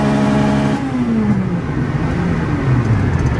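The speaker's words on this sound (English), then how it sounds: "She revved it." A car engine revs close by, its pitch sliding down as the revs fall and then rising slightly again, loud and steady throughout.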